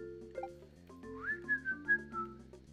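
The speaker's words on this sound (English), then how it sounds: "Oops, I won't whistle, I'm sorry." A person whistles a short melodic phrase, rising then holding and wavering, close and moderately loud over quiet background game music while playing Mario Maker 2.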